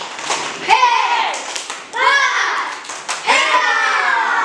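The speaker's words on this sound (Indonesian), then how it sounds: "Kasih tepuk hebat dong buat kelompok 4." Children in a third-grade elementary classroom do a rhythmic group clapping chant, their voices chanting loudly in short bursts with sharp hand claps mixed in.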